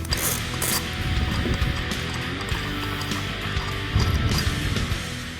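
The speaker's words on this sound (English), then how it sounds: "Use a 12mm socket to remove the bolt and washers from the mirror." A 12mm socket wrench works a bolt and washers off a Jeep Wrangler exterior mirror, giving quiet, irregular metallic ratcheting clicks and small clinks spread over several seconds, close and fairly faint.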